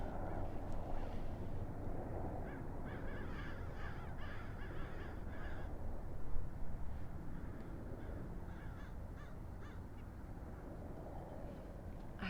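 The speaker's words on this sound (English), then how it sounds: "there's a bunch of crows" Crows caw from a flock circling and turning overhead outdoors, repeated harsh calls scattered through the stretch, fairly distant and faint over steady low background rumble.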